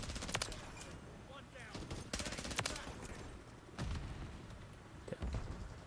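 VEL46 submachine gun in Modern Warfare 3, rapid automatic bursts crackling over busy, noisy game action, with short pauses between strings of fire and a voice talking underneath.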